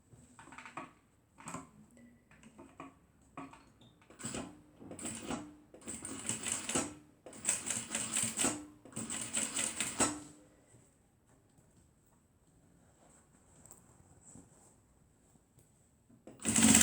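A sewing machine stitches the seam of a fabric waist bag in several bursts of rapid mechanical whirring, short at first, then longer runs, before falling quiet into faint handling sounds.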